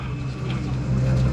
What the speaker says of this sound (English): I scanned, and now I'm on the bus.